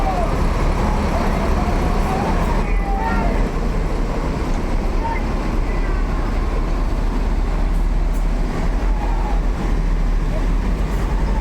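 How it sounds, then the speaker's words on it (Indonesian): A convoy of Sumatran buses departing on the homeward holiday exodus: steady heavy engine and road rumble throughout, dense and continuous, with faint horn-like tones and background voices. "bus-bus Sumatera udah pernah keluar nih, Sinar Denpo. Konvoy mereka luar biasa"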